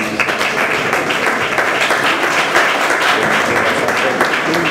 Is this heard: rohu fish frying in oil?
no